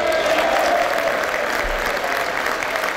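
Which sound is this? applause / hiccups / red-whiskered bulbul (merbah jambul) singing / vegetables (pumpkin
applause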